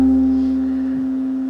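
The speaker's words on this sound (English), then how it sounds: "So this is the sound of dha." A pakhawaj drum plays a dha stroke, ta and thun struck together: one resonant hit that leaves a sustained, pitched ring slowly fading, heard alone.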